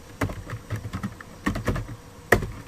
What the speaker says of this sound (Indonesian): Saya di sini memasukkan misal nama Amir.